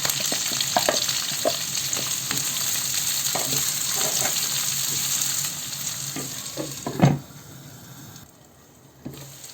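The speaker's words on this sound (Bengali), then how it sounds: "হালকা একটু পেঁয়াজটা ভেজে" Chopped onions, chillies and garlic fry in hot oil in a pan, sizzling steadily with scattered stirring scrapes and clicks, then turn quieter toward the end.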